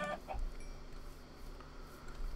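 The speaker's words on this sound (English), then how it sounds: "At least we have chickens." Chickens cluck in a video game, a few soft clucks close together near the start with quieter clucking over a faint background ambience.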